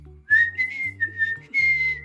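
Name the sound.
regular whistle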